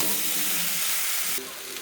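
Chow mein sizzles loudly and steadily in a pan over a lowered gas flame, a dense hiss that drops slightly in level toward the end.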